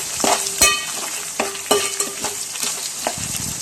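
Cumin powder, coriander powder and biryani masala get stirred in a hot pan for chicken dum biryani, a spoon scraping in several distinct strokes over a soft, steady sizzle, close and clear with no voices.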